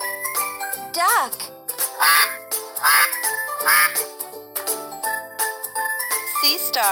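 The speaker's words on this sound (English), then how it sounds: "Duck." In a kids' educational animal puzzle game, a cartoon duck quacks in a few loud nasal bursts among jingling chimes and upbeat background music.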